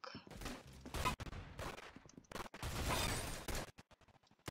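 Gunfire in the Roblox Arsenal game, quick bursts of rapid shots and separate single cracks in an uneven rhythm, moderately loud.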